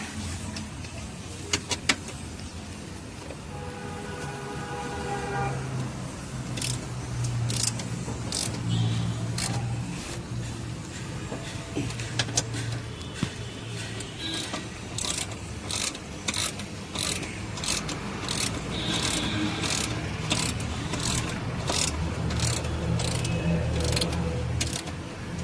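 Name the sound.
tightening bolts on Wagon R chassis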